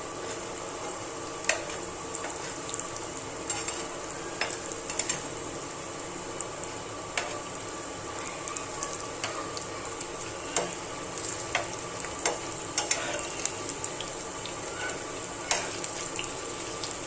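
Gobi manchurian, battered cauliflower, fries in a pan with a steady, fairly quiet sizzle broken by scattered pops and crackles, without any talking.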